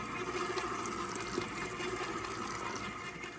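Hot water poured into cake batter for a gluten-free orange cake while an electric mixer runs on low speed, giving a steady, even wash of liquid and motor whir with no talking.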